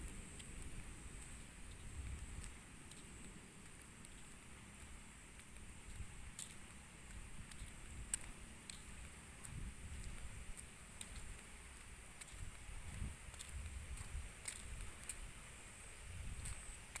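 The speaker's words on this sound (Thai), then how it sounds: "เดินตากฝน" Steady, faint rain patters on a surface with scattered drops ticking, wind-like hiss in the background, no voices.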